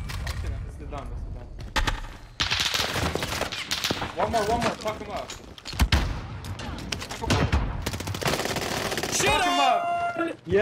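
Gunfire in Call of Duty Warzone on Rebirth Island, with dense, overlapping automatic bursts and booming shots throughout, loud and busy, while players shout over it.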